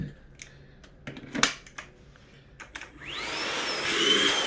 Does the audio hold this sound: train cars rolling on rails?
no